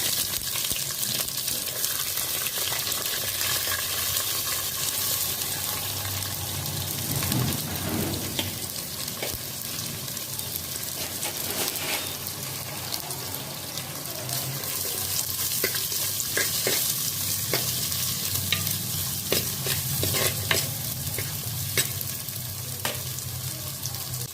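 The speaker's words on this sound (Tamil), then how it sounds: "இப்போ வெங்காயம் போடுறேன்." Onions sizzle and fry in a pan while being stirred for crab curry. The continuous crackling is close, with scraping stirring sounds coming and going.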